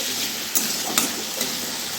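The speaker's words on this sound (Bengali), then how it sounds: "আলুটাকে ভেজে নিচ্ছি।" Potatoes frying in a pan give a steady, close sizzle with a few soft clinks or stirs.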